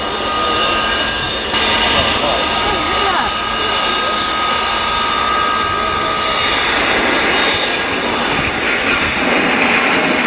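Engines of a Boeing 767-based tanker aircraft roar steadily at an air show, a loud sustained drone with whining tones while someone talks over it.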